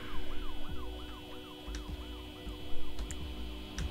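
A wailing emergency siren in the video game Project Zomboid cycles rapidly up and down, repeating steadily at moderate distance, with a few faint clicks and engine hum underneath.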